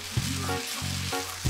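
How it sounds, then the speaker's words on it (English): Shredded pork with carrot, mushroom and sauce stir-fried in a wok for fish-flavored pork, loud close sizzling in repeated bursts as the food is tossed and stirred, with scraping between bursts and no talk. "Keep stir frying the dish."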